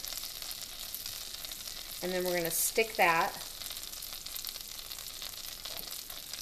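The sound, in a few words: battered wheat bread sizzling in hot pan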